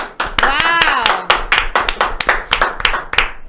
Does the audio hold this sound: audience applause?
yes